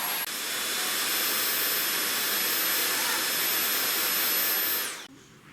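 A loud, steady vacuum cleaner whine runs close by for several seconds, then cuts off abruptly, leaving a faint room hush.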